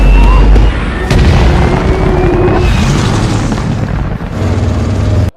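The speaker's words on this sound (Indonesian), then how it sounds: "ketiga truk minyak tersebut terbalik dan meledak" Loud, rumbling blasts of three overturned oil trucks exploding roar continuously, with a deep boom at the start and heavy crackling explosions sustained throughout.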